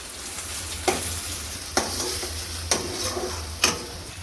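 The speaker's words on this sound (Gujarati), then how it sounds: "તો હવે ટમેટું ચડી જાય ત્યાં સુધી આપણે એને રહેવા દઈશું ગેસ ઉપર" Chopped tomato cooking in a pan on a gas stove: a continuous close sizzle broken by four evenly spaced sharp scrapes or stirs, about one per second, with no talking.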